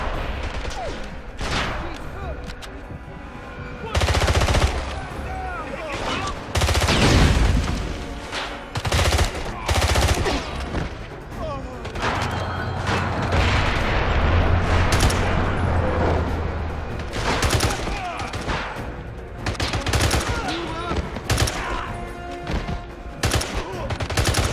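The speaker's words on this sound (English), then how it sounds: "we're just going to switch to this MP5 to try and take some guys out" MP5 submachine gun fire in the video game 007 Blood Stone: rapid bursts and single shots, loud and close, in an irregular rhythm over a busy firefight backdrop, with a voice talking over them at times.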